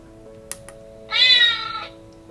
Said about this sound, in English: he sent me a clip of their cat meowing